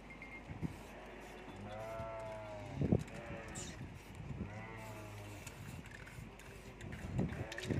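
Sheep and newborn lambs bleat in a livestock pen, several wavering calls of differing pitch coming in bursts over a steady background, with some thuds and a little talk.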